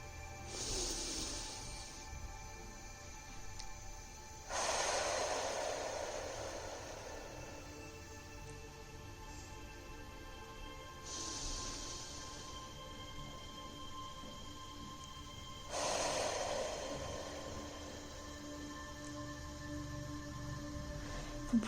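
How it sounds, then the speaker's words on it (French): Slow guided deep breaths during a relaxation session, each a soft airy inhale through the nose and a longer breathy exhale through the mouth, repeated about four times over steady background hum. "On inspire toujours par le nez. On retient quelques secondes sa respiration et on expire par la bouche."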